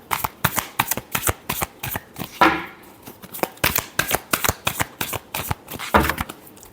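Tarot cards shuffled in quick, crisp riffling bursts, a steady run of sharp flicks and slaps with one longer riffle midway, close and clear with no talk.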